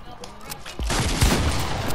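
Gunfire from a gun in a video game: after a quiet opening, a dense, loud burst of rapid shots fills the second half, sounding like a sustained fusillade with sharp, punchy impacts.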